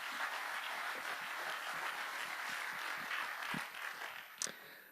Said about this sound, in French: Je pense qu'on peut applaudir Grégoire Monconduit.